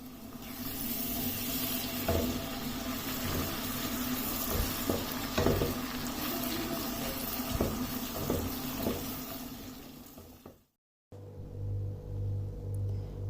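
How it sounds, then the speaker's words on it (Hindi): Garlic-ginger paste and ground green chilli frying in oil give a steady, dense sizzle with a low rumble and scattered stirring clicks, close and loud. It cuts out abruptly near the end before quieter hum resumes. "अब लहसुन और अदरक के पेस्ट को इसमें लाइट गोल्डन ब्राउन कलर होने तक फ्राई होने देना है।"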